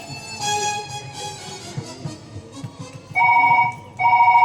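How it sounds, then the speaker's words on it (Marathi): A mobile phone ringtone beeps twice in short tonal bursts, a missed call, after a few seconds of quiet background sounds. "वाजला का अरे मिस कॉल आला."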